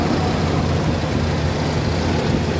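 The V6 engine of a 2004 Suzuki Grand Escudo XL7 automatic runs at a steady idle, a smooth, even hum close by with no talk.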